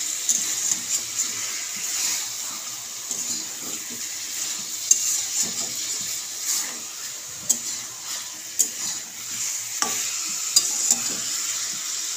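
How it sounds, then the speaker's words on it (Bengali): Steady sizzling of marinated chicken frying in a pan, with intermittent scrapes and clicks of a spoon stirring, no voices. "এবারে ভালোভাবে কষিয়ে নেব চিকেনটা"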